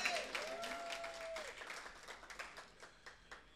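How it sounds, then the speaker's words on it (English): Audience claps for a crew member at a spoken-word worship event, a burst of applause that thins into scattered individual claps as it fades. "Clap for Andy for me"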